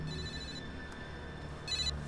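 A mobile phone rings indoors, its tone repeating in steady bursts that swell louder near the end, with no talking over it.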